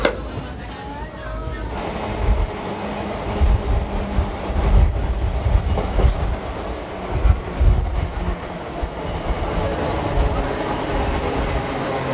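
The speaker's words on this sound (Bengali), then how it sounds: "ট্রেন কিন্তু সময়ের আগেই চলছে" A Santragachi–Digha special train rumbles steadily along the rails near Bagnan station, loud and close, with a continuous roar and faint rhythmic clatter.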